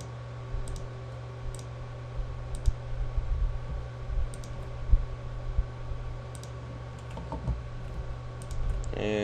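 Quiet, sporadic computer mouse clicks come from alt-clicking in Photoshop, scattered singly and in pairs over a steady low electrical hum.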